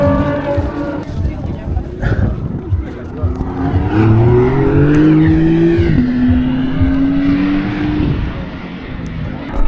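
Racing cars out on a track in Latvia, engines droning and rising and falling in pitch as they pass at moderate distance, loud and continuous, with people talking nearby.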